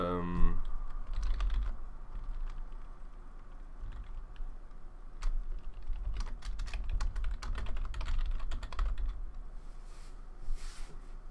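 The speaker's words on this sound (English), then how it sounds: "I was just typing on the computer there" Typing on a computer keyboard, with quick irregular clusters of close, crisp key clicks pausing and resuming over a low background hum, while a voice speaks briefly at the start.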